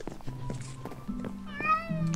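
A Minecraft cat meows in a few short rising and falling cries, fairly close and clear, over soft background game sounds.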